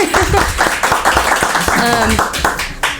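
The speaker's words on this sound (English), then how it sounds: "So everybody, give a round of applause up there." A round of audience clapping greets a special guest at an indoor event, loud and uneven, with scattered sharp hand claps mixed with cheering voices and chatter over the full stretch.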